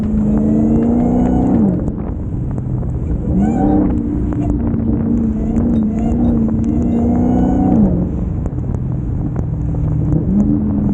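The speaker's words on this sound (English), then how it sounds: "Let me see if I can make the supercharger whine real quick." A Dodge Hellcat Redeye revs in bursts while driving in the rain, loud and close, its supercharger whine rising and falling over a deep engine drone, with wind and road rumble underneath.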